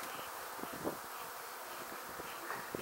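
Honey bees from a large hive being removed, a dense steady buzz filling the air with a few brief louder passes close by, no voices.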